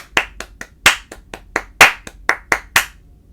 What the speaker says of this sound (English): Make the first clap of each watermelon just a little bit louder